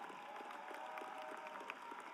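Faint, distant applause from a high school graduation crowd, soft and continuous, with a steady hum running underneath.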